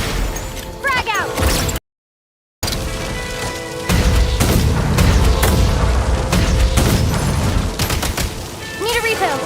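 Video game combat bursts out in a rapid string of explosions and gunfire, sharp cracks and booms crowding together at close range, broken by a brief dropout of silence and mixed with voices and other game effects.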